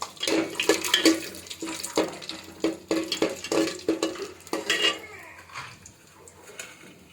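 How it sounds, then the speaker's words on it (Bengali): A metal utensil stirs garam masala, bay leaves, raisins and nuts in hot coconut oil in a pan, giving repeated clinks and scrapes with a light sizzle that fades toward the end. "তেলের মধ্যে দিয়ে দিলাম গরম মশলা, তেজপাতা, কিশমিশ, বাদাম। তেলেতে হালকা নেড়ে নিয়ে"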